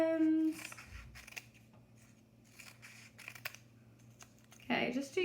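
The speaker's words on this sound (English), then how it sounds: "I'm gonna cut another strip for 1s" Scissors cutting paper strips to make base ten blocks: a few crisp snips and paper rustles, close and moderately quiet, with a person talking at the start and end.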